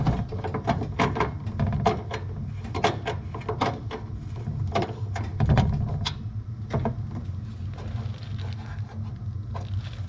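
Bolts being tightened on closeout panels of a G-body Cutlass, heard as a run of sharp metallic clicks and ratchet-like ticks at an uneven pace, fairly close, over a steady background hum.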